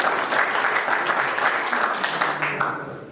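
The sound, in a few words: applause for pigeon auction winner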